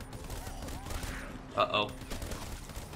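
Gunfire from a weapon in Call of Duty Black Ops 3 Zombies, a short burst of two or three close, sharp shots rising above steady game ambience, with a voice speaking briefly.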